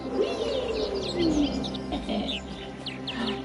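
Birds in the video game AER: Memories of Old chirp and coo close by, a busy mix of short bright tweets and a low dove-like coo over soft ambient music, with no talk.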